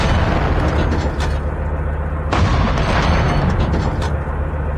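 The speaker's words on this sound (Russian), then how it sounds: "Вон там ракета летит, чья-то." A rocket launcher explosion in the Call of Duty: Mobile video game roars loudly, with heavy rumbling blasts and sustained battle noise filling the whole stretch.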